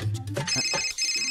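A mobile phone ringtone plays briefly, a short burst of bright electronic tones and a melodic jingle, close and clear with no voices.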